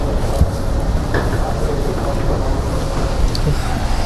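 Inside a moving metro train in Bengaluru, a steady low rumble and broadband rush fill the car, loud and continuous, with faint scattered knocks and no clear talk.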